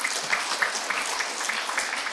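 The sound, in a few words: audience applause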